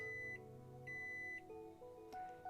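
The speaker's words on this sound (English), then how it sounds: "Suddenly, the sound of the alarm resounded throughout the room." An alarm goes off in a visual novel game, a quiet electronic tone that beeps on and off in a regular pattern over soft background music.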